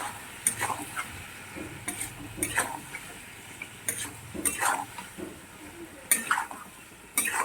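Chicken pieces frying with chili and salt in a home kitchen pan, a low sizzle under repeated scraping and stirring clatters of a utensil against the pan, in short irregular bursts.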